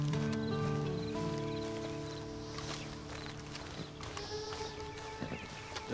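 Horse hooves clip-clop at a walking pace in the video game Red Dead Online, a steady rhythm under game music with occasional rustling, fairly close.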